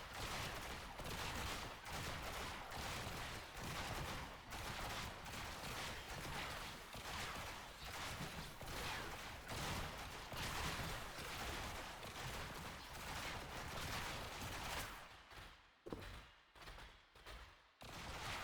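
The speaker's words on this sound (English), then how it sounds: "these are just 5 enemies shooting at me" Gunfire from five enemies in the video game Warframe, a dense, continuous barrage of rapid shots that stays loud and close for most of the stretch before thinning into a few scattered bursts near the end.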